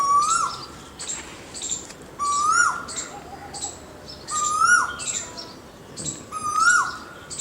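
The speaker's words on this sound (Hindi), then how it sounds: "दूर पर कोई कोयल बोल रही है।" An Asian koel calls in a garden in Raebareli on a May evening, repeating a rising, whistled note about every two seconds. Higher chirps from other birds run alongside it, and no one speaks.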